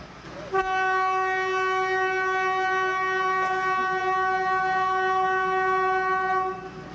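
A train horn blows one long, steady, loud tone for about six seconds over the low rumble of a train running on the railway, with no talking.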